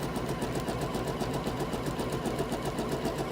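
A sewing machine runs steadily through a seam on a test piece of fabric, its needle chattering in a fast, even rhythm close by and alone, with no talking.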